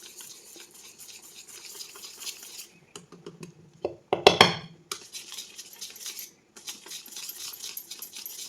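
A utensil scrapes and clinks against a bowl while wheat and finger millet flour is mixed for a cake batter, giving a steady close-up stirring rasp with a few sharper knocks midway.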